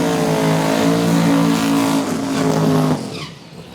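A drag racing car doing a burnout in the burnout box at Beech Bend Raceway, Bowling Green, a small-tire race: loud sustained engine roar with tire screech that drops off abruptly near the end.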